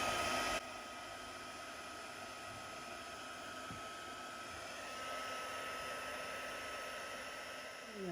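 A heat gun dries embossing powder on a stamped craft page, with a steady, even blowing whir held for the whole stretch at moderate volume.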